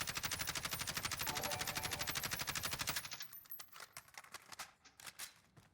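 Kilo assault rifle in Warzone firing a fast, even full-auto burst for about three seconds, loud and close, followed by a few scattered shots and mechanical clicks.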